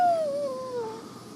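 Several dogs inside a camper van parked at a dispersed campsite in a national forest give a drawn-out, falling moan-like growl or whine, close and fairly loud, tapering off over a second.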